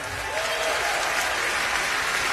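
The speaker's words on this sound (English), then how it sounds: "You clap for that." A live show audience applauds steadily, a dense wash of clapping from a crowd that stays level throughout the short stretch.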